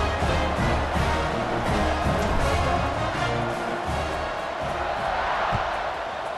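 A stadium crowd in the EA Sports College Football 26 video game roars and cheers steadily, a dense, loud wash of voices that stays unbroken throughout, with no separate speech standing out.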